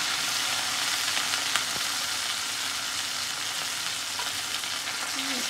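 Chicken pieces frying in a hot pan for homemade chilli chicken, an even, continuous sizzle close by with faint stirring touches and no talk.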